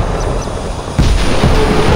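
A warship cannon fires in the Modern Warships video game, with a loud booming blast about halfway through over a constant rumbling engine drone.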